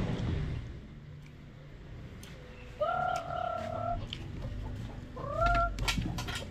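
Chickens cluck around feeding time, with a pair of drawn-out, tonal fowl calls rising over a steady low farmyard murmur, moderately close.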